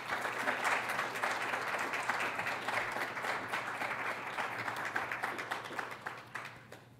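An audience applauds to welcome Dr. Laura Gonzales as a speaker, a steady, fairly soft wash of many hands clapping together that slowly thins toward the end.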